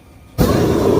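A gas heater's pilot light catches and bursts into a big fire, a sudden loud whoosh that settles into a steady close roar.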